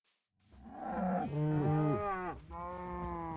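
Cows moo in a farming video game, a few overlapping calls close together, loud and drawn out with clear tonal bellows, with no talk over them.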